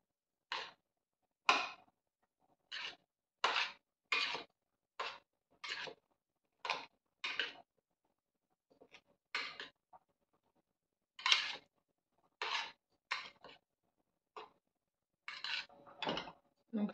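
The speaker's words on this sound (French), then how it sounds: "Et je vais mélanger." Utensil scraping and clinking in a bowl while vinaigrette is mixed by hand, a series of short, close, regular strokes with brief pauses between them in a quiet kitchen.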